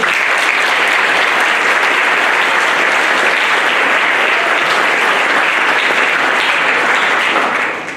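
A loud, dense wash of audience applause at a school band concert, steady and sustained throughout before tapering slightly at the end, with no talk over it.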